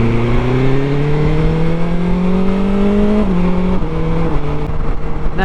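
A BMW R1250 GS adventure motorcycle engine: a steady, close, loud drone that climbs slowly in pitch, dips briefly as a gear changes, then holds at a lower pitch, running alone without talk.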